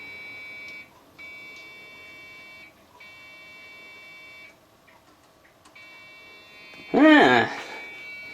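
A steady high-pitched electronic beep from a Dell Dimension 5000 computer sounds in long repeated stretches with short gaps, followed by a brief burst of someone speaking.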